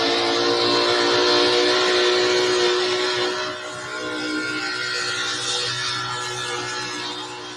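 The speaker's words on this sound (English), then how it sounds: "Little 79 Ford Bronco was working his tail end off there" A 1979 Ford Bronco's engine roars at sustained high RPM during an outlaw truck pull. The loud, steady, dense drone holds on a strained note, dips slightly midway and then keeps going, with no voices over it.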